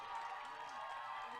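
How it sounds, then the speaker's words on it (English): Fans in the stands at Boxer Stadium during a match, a steady wash of crowd noise and cheering that holds at an even level throughout. "I can hope you can hear the crowd going on here"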